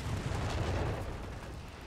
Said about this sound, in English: howitzers opening fire, so we have a little bit of allied artillery trying to bomb the Axis back